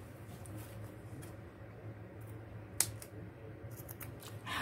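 Scissors make a few quiet snips while trimming fabric for a craft project, soft isolated cuts over a low background hum with no talking.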